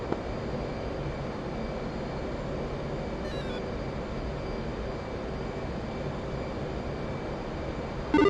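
Jet aircraft rolling out in a DCS flight simulator game, a steady broadband engine roar holding at an even level throughout with a brief faint tone midway, no voices over it.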